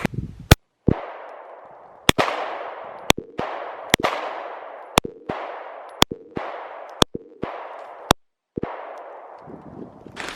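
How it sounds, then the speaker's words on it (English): Nine sharp 9mm pistol shots fired at a bowling ball outdoors, loud and evenly spaced about a second apart, each with a long ringing echo that fades before the next report. "Let's go shoot the bowling ball."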